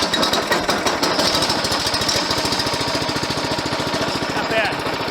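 A Briggs engine on a DR Power chipper/shredder runs with a rapid, steady mechanical chugging and buzzing, loud and close throughout.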